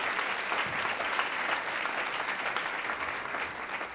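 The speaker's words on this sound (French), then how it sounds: "Est-ce qu'on peut les applaudir?" An audience applauding at a French-speaking gathering, dense sustained clapping from many hands at moderate distance, steady throughout without voices.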